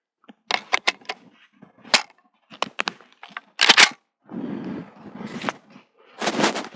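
A 12-gauge shotgun fires single slugs at a 50-metre outdoor range, giving a series of sharp, loud cracks with brief gaps between shots, plus some handling noise and rustling.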